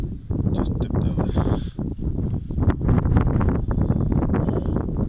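Strong gusty wind buffets the microphone on a dusty dairy farm, a continuous loud low rumble with surging gusts and no talking.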